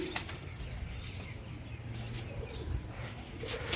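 A pigeon coos softly amid faint rustling and a few wing flaps, quiet and close, with a low background hum.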